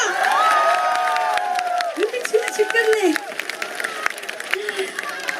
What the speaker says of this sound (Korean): 그럼 박수 한 번만 주시오!